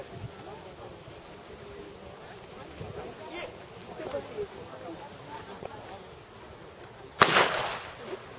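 A single sharp gunshot cracks loudly near the end of a dog ring trial outdoors, preceded by quiet ambience, faint movements and low background voices.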